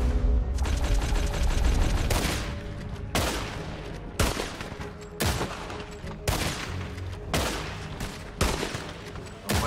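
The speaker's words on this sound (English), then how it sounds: "Why is this Arthur shooting?" Sharp, loud gunshots in Red Dead Redemption 2 ring out in a series of separate blasts every second or so, each followed by a decaying echo, after an opening stretch of rapid fire.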